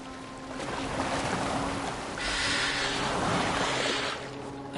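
Boat moving across open water in the video game Assassin's Creed Valhalla, with a steady wash of water and wind throughout that grows louder midway and stays alone, with no talk.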